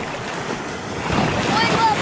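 Ocean waves and gusting wind buffet a raft just launched from a desert island toward the mainland, a constant close roar of surf and microphone wind noise that builds slightly toward the end.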